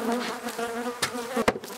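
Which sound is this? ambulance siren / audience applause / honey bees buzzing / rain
honey bees buzzing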